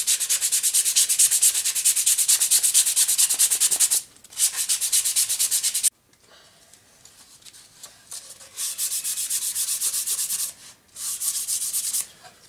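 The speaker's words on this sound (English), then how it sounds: "Working on these edges with some 100 grit sandpaper" Close, hissing strokes of 100-grit sandpaper rubbing along plywood edges, in long continuous bursts broken by short pauses, with a quieter scraping stretch in the middle.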